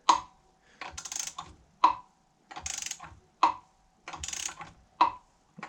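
Popping, clicking noises from a part being tightened on a 6.0 LSX engine in a '71 Chevelle during power steering pump and alternator bracket work, four sharp close clicks spaced evenly, each followed by a brief ratcheting burst.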